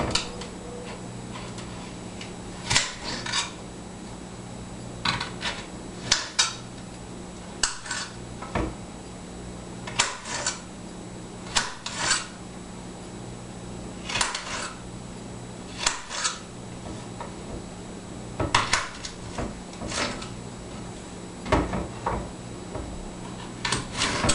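A knife chops food into even pieces on a kitchen cutting board, making sharp, distinct knocks that come in short, irregular bursts across a quiet room.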